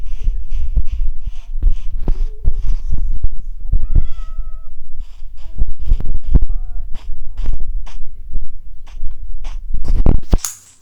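A cat in Minecraft meows again and again over about ten seconds. The meows are loud and close, set against soft game noises.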